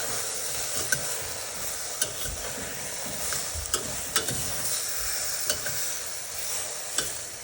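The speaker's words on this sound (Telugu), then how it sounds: "కాకపోతే కొంచెం టేస్ట్గా ఉంటుందని చెప్పి వేయిస్తున్నాం." Spices frying in a pan for a Telugu okra curry with pullagura and bajji, a steady soft sizzle with repeated sharp clinks of a spoon stirring against the pan, heard alone at close range.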